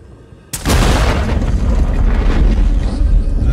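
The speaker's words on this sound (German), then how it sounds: "ich jag das Ding in die Luft" A sudden heavy boom in the Alien: Isolation video game, followed by a loud, sustained roaring rumble that fills the rest of the moment.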